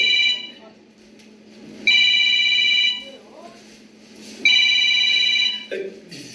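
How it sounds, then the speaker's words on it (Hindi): Telephone ringing in two long electronic trills about two and a half seconds apart, each about a second long and fairly close, with a quiet low hum and faint room noise between rings. "सलमा का फोन"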